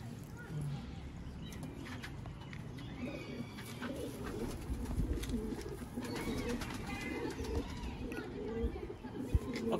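Sialkoti chooha pigeons coo softly in a low, rolling murmur among rustling and background noise, with people talking nearby.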